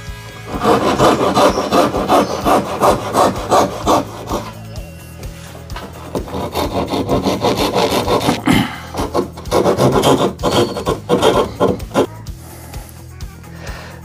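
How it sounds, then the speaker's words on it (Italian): A hand saw cuts through glued tongue-and-groove wooden panelling for a DIY decorative shelf, worked outdoors: steady, rasping back-and-forth strokes in a quick rhythm, close and loud, with short pauses between bouts. "andremo con l'ausilio di una sega a eliminare gli incastri rimasti fuori dalle facce"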